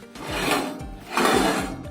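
Harsh rasping strokes of grinding on welded steel harrow discs being made into a frying pan, two rough passes in quick succession, loud and close with no voices.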